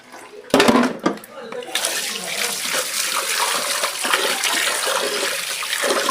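Rice is washed by hand in a vessel of water for sweet pongal, pressed and swished so the water sloshes and splashes steadily and close by after a couple of sharp knocks.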